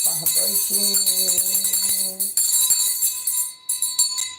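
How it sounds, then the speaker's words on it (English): A bell dings repeatedly with bright, sustained metallic ringing in a live home stream, tones layered over one another with strong high overtones for several seconds. "Let's ding the bell, because we're going to get some positive vibrations."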